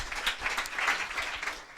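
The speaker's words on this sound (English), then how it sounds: "We should just clap right now." A short burst of audience clapping at an entrepreneurship challenge festival event honoring winners, moderately loud and brief with scattered individual claps.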